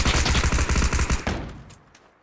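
A Tommy gun fires a rapid automatic burst in the video game PUBG, loud and close, a rattling string of about a dozen shots that stops abruptly and leaves a fading echoing tail.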